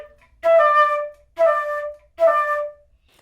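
Flute playing short phrases, each a quick grace note from E flicking into a held D, three separate sustained notes with clean gaps between them and no talking.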